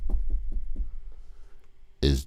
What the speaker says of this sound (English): I'll knock on your door.